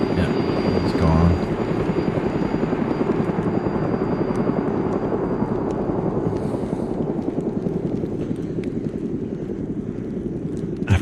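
A helicopter in the video game DayZ gives a loud, steady rotor thump and engine roar that fills the scene, holding strong throughout before easing slightly toward the end as it flies away.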